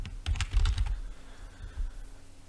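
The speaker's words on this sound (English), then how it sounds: "just type as you normally would" Fingers type on a computer keyboard in a quick flurry of close clicking keystrokes, then a few scattered taps after a short pause, with no voices.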